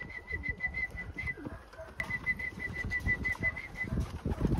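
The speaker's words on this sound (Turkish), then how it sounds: "Önce şu güvercinlerimize bir ıslık çalalım." A person whistles a rapid, repeated high trill in short bursts to call pigeons, with soft bird flutters and rustling nearby.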